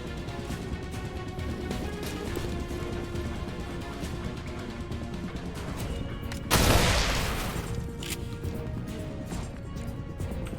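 Gunfire in the tactical game XCOM: Chimera Squad, with a sharp loud burst of shots landing midway over a steady game soundtrack, then fading back to the background music.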